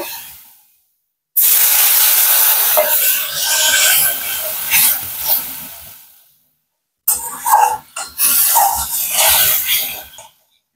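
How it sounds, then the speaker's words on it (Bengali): Water hits hot, fried spice masala in a pan for a paneer dish, setting off a loud hissing sizzle that fades, stops briefly, then flares up again in a second burst. "জল দিয়ে দেবো, কারণ মশলাটা আমার কষানো হয়ে গেছে।"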